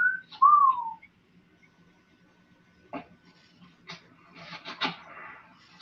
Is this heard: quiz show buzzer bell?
no